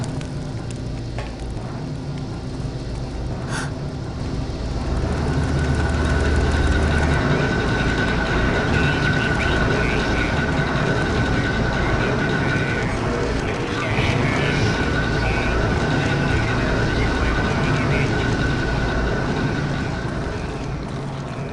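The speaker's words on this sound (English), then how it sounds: "How can those things hear anything over those freaking noisy as hell machines?" Noisy machinery in the Thief: The Metal Age game: a steady, loud mechanical drone and rumble with a faint metallic whine and occasional clank, continuous throughout.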